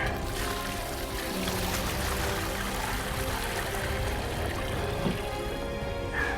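Water poured into a bucket of black sand during gold panning outdoors, a steady broadband splashing and trickling that runs continuously at moderate level.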